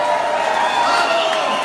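Audience at the Festirok rock concert in Bolivia applauding and cheering as a steady, dense wash of crowd noise filling the whole moment.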